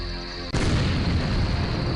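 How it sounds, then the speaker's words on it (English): A large mortar fires in the video game The Journeyman Project 2: Buried in Time. A steady hum breaks into one loud, deep boom that rolls on as sustained rumbling. "That's a large mortar."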